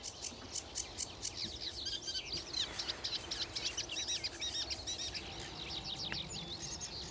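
A sedge warbler sings a varied, chattering song from reeds along the Zwarte Water on an early morning, with rapid scratchy trills and chirps, faint and somewhat distant over a soft background hiss.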